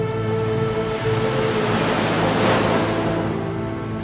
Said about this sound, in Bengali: এক পাশে বিশাল পাহাড়, আরেক পাশে ঢেউ আশ্রে পড়ছে বালির উপর